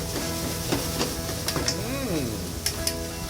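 Eggplant sautés in a hot pan for a spicy chili-sauce dish, a steady close sizzle broken by scraping stirs and a few sharp clinks of utensil on pan.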